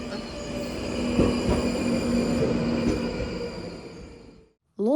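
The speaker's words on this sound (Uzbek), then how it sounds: "Metro keldi." A London Underground train pulls into a station with a loud, sustained rumble, squealing wheels and a steady tonal whine that fades to near silence before a voice begins at the end.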